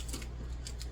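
Something is cut open with scissors during meal prep in a kitchen, with a few quick snipping crunches over steady low background hum.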